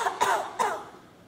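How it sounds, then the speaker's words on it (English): Two quick, deliberate fake coughs from a group during a grade-school back-to-school lesson on covering coughs, loud and close, then fading into quiet. "we're going to do a fake cough on the count of three"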